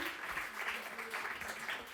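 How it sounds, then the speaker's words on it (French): Audience applause at a French evening talk event, a steady wash of many hands clapping at moderate distance, fairly soft and continuous throughout. "Super, on peut les applaudir."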